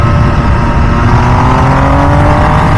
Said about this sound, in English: We'll get on the straightaway here and we'll get on it so you guys can hear that exhaust.